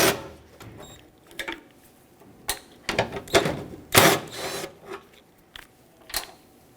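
A 10mm socket working the mounting nuts off a 1995-2004 Toyota Tacoma headlight, heard as scattered close metallic clicks, ratcheting and scraping bursts in quiet surroundings.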